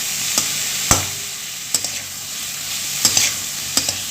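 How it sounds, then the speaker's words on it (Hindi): Mango strips sizzling and stirring as they are tempered in a pan over slow to medium flame, with a steady hiss and several sharp scraping clicks at irregular intervals. "तो ये छौंक रहा है, इसकी क्वांटिटी रिड्यूस हो रही है"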